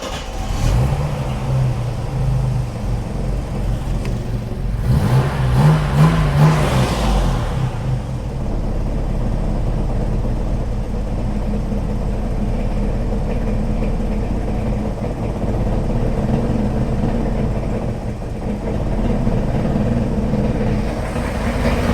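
A freshly built car engine runs continuously on its first test after a cam run-in, a steady loud rumble with a brief rev or surge in the middle before settling back to an even drone.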